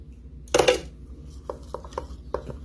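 A small handful of crunchy granola is sprinkled into a breakfast bowl, giving a short rattling clatter up close, followed by a few light, scattered ticks and taps of bowl and spoon in a quiet kitchen.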